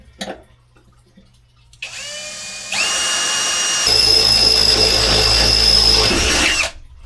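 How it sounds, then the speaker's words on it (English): A power drill bores a pilot hole into a truck, its motor whirring up in steps and holding a loud, steady high whine for several seconds before stopping, close and alone. "we're going to have to get a smaller bit first to get us a pilot hole"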